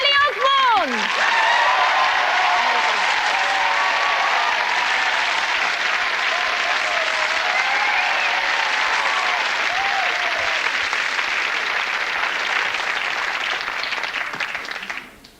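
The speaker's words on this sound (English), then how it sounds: "a big round of applause while you're at it." A TV studio audience at a Stars in Their Eyes Coronation Street special gives loud, sustained applause, a dense roar of clapping, with music playing beneath it, lasting about fifteen seconds before cutting off.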